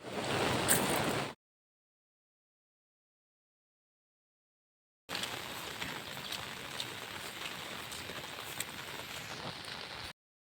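Steady rain falls on a trip out to farm fields, a soft, even patter of drops heard close up, broken by a stretch of silence between two rainy passages.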